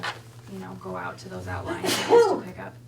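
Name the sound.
sneeze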